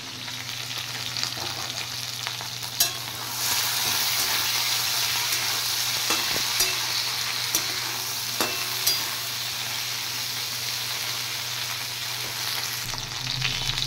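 Food frying in a pan and being stirred, a steady close hiss of sizzling fat running throughout, broken by occasional sharp scrapes and clicks of the spoon against the pan, with no voices.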